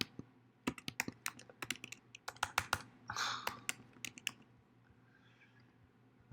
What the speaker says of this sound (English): I should never type actual things because it takes me forever to do that.